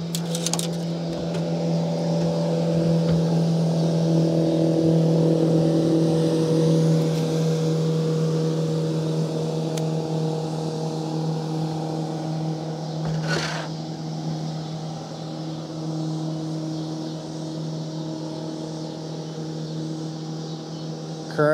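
A motorboat passes along a river while someone fishes from shore, a steady engine drone that swells and then slowly fades as it moves away, with a brief bump midway.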